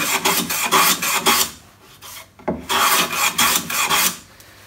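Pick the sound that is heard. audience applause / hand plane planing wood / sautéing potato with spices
hand plane planing wood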